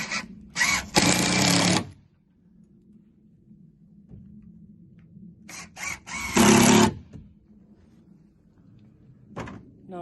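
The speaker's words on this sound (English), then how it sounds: "I'm going to put another 2 screws in it, just to keep it nice and tight." Power drill whirring in two loud bursts as screws are driven into wood for a DIY compost toilet block, separated by a quiet gap, with a shorter burst near the end.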